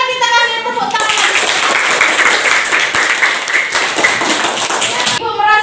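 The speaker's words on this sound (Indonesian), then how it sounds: "boleh kita kasih tepuk tangan" Schoolchildren in a classroom clap their hands together in a loud, steady burst of applause lasting about four seconds, with a teacher's voice speaking just before and after.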